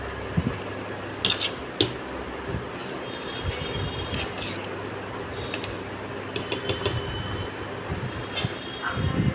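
A pot of rice boils on a home stove with a low, constant bubbling rumble, broken by scattered faint clinks and taps, and no voices.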